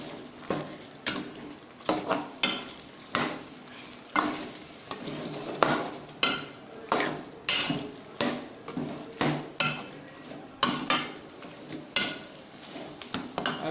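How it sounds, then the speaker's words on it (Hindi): A spoon repeatedly stirs lentils and mutton frying in a pan for dal gosht, giving a steady rhythm of scraping strokes roughly once a second over a soft sizzle, close and alone. "इसको अच्छी तरीके से चम्मच के साथ मिक्स करेंगे और भूनेंगे इसको"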